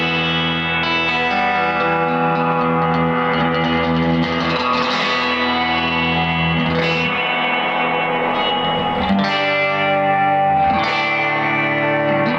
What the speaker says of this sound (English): Now let's take the reverb up to 6.